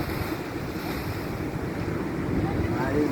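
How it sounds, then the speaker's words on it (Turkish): Waves roll and crash continuously nearby, with gusty wind buffeting the microphone throughout. "Öyle bir dalgalar vuruyor ki nasıl şöyle."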